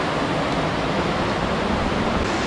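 Rushing water from a waterfall on a back country hiking trail, a steady, loud, broadband roar that fills the whole stretch without a break, with no voices over it.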